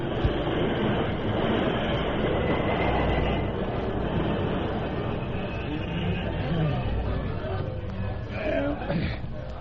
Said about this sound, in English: Jim, stop the train.